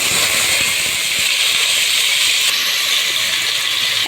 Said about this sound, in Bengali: এখন এই পেঁয়াজটা ভাজতে ভাজতে বেরেস্তা করে ফেলতে হবে